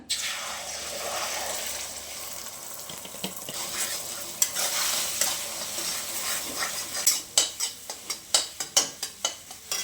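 Egg cracked into hot oil in a pan while making chicken fried rice: continuous bright sizzling and frying hiss, with a spatula scraping and stirring that turns into a quick run of rhythmic clacks toward the end, no talk.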